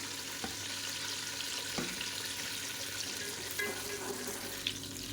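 Large onions frying in hot mutton fat for biryani give a steady, close sizzle, with a few soft clinks and stirring knocks scattered through it.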